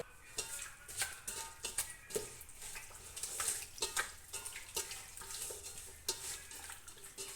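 Large pieces of washed chicken being mixed by hand with poured liquid for mandi, giving continuous soft wet squelching and stirring with light clinks of a dish, steady and close with no talk.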